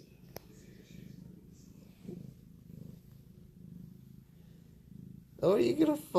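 A cat purrs softly and steadily up close, a low rhythmic rumble, before a voice breaks in loudly at the end.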